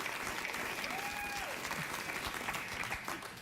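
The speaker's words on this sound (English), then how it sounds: "I don't quite know what you're applauding now." Studio audience at a late-night talk show applauding, a dense continuous wash of clapping that fills the room, loud and even, fading slightly at the end.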